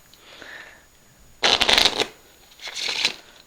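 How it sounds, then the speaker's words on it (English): A deck of playing cards riffled and shuffled close up, a sharp burst of flutter followed by a second softer shuffle, no talking. "if I just give the deck a couple of cuts and shuffle"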